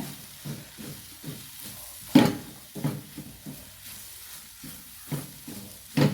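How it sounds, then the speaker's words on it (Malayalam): Jackfruit and coconut fry in ghee under a low sizzle, broken by rhythmic stirring scrapes roughly every half second, a few of them sharper and louder. "ഇപ്പോൾ ചക്കയും തേങ്ങയും എല്ലാം വരട്ടിയെടുത്ത് നെയ്യിൽ."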